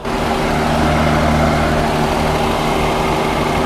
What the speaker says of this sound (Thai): เครื่องนิ่งมากเลยนี่